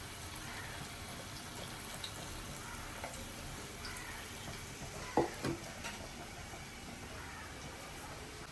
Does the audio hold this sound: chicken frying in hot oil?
yes